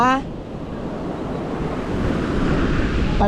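Water swelling and rising, a continuous rushing wash of waves mixed with wind buffeting the microphone, growing slightly louder toward the end, with brief voices at the start and finish.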